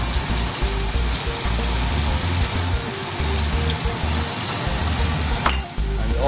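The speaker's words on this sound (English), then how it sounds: "Now that the chicken is sauteed and spiced up" Chicken sautés with spices, salt and chopped onion in a pan, giving a steady close sizzle and frying hiss throughout, with an occasional utensil clink near the end.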